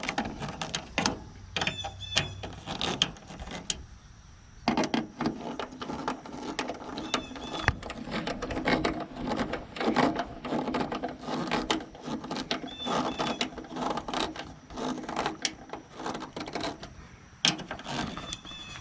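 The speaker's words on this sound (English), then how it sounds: "Using the 8mm to tighten it up." An 8mm socket ratchet tightens a 2008 Ford F150 tail light assembly, giving rapid repeated clicking bursts of the pawl with short pauses between strokes, close and fairly quiet, with no voices.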